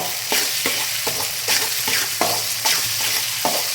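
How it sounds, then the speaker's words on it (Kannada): Vegetables frying in oil with ginger-garlic paste for egg fried rice, a steady close sizzle broken by regular scrapes of a spoon stirring the pan. "ಎಣ್ಣೆಯಲ್ಲಿ ಇನ್ನೂ ಮೆತ್ತಗಾಗುತ್ತೆ ತರಕಾರಿ"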